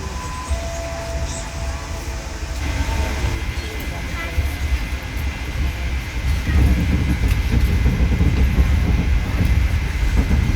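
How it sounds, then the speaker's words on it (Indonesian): KA Jayabaya economy train with first-generation stainless steel carriages runs steadily, a continuous rumbling roar with faint rail clatter that grows louder and heavier in the second half, heard from inside. "kereta mahal juga nih, tapi dia masih pakai rangkaian stainless steel generasi yang pertama"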